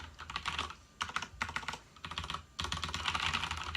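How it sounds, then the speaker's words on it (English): Typing on a Ganss GS87 mechanical keyboard with tactile Cherry MX Brown switches, close and steady in dense bursts of clacking keystrokes with two short pauses, no voices. "These are Cherry MX Brown switches, so they have that tactile bump, but they're supposed to be relatively quiet"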